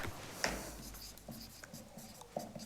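Pen or marker writing on a board during a geography lesson on world continents, a faint scratchy stroke followed by soft intermittent taps and scribbles, quiet and close.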